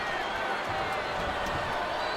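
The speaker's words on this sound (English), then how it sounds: "do you hear this capacity crowd?" Steady roar of a packed arena crowd cheering in the WWE 2K25 wrestling game, a continuous dense wash of voices through a Stone Cold versus Rikishi match, with commentary speech running over it.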